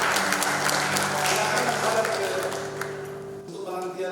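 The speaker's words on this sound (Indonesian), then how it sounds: "Sekali lagi tepuk tangan." A second round of applause from guests at a wedding blessing ceremony, sustained crowd clapping over a low held musical tone, thinning out near the end as voices come through.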